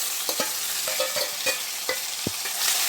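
Tomatoes and capsicum sizzle in a pan under a steady frying hiss, while a spoon stirs them with irregular close scrapes and clinks.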